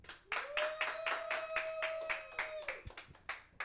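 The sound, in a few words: audience applauding comedian Frankie French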